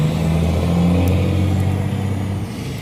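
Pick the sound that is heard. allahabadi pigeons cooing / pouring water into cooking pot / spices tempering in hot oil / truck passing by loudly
truck passing by loudly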